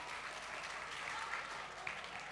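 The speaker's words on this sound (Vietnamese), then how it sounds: "tiếng vỗ tay để nói lên tất cả" A comedy show audience applauds in a steady, fairly faint wash of clapping that holds evenly throughout, with no voices standing out.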